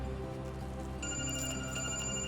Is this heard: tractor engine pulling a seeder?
no